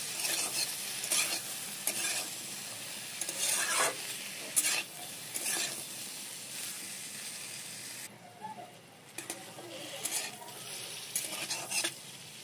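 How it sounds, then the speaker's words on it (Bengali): Mixed vegetables for veg pulao fry in a pan with salt and turmeric: a soft, steady sizzle runs throughout, punctuated by repeated stirring and scraping of a utensil against the pan. "হালকা লাল লাল করে ভেজে নেব।"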